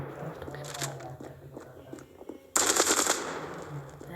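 Rapid automatic gunfire rattles from an online shooting video game, soft bursts at first and then a loud, sustained burst in the second half.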